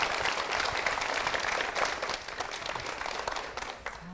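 A church congregation applauds at a Korean church service, a dense, steady wave of clapping that fills the room and then gradually thins toward the end.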